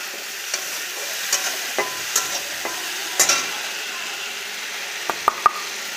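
Spices such as chilli powder, turmeric and cumin powder are stir-fried with yogurt in a pan for paneer pasanda, giving a steady sizzle broken by sharp spatula scrapes and clicks near the end.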